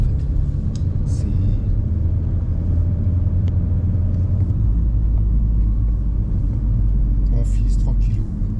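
A Renault 4L fitted with an R5 GTL engine drives along a narrow mountain road, its steady low engine rumble continuous and close throughout, with voices talking over it.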